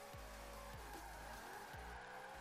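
A Lexus RC F drifting in Forza Horizon 4 lets out a faint, continuous tire squeal over its engine, with repeated sharp revs dropping in pitch as the car slides.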